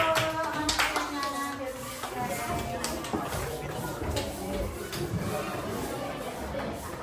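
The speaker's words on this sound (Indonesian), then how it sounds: "Tepuk tangan untuk kelompok ikut tim sawah." A classroom of pupils applauds a student group after their project presentation, a steady patter of many hands clapping with some chatter and children's voices mixed in.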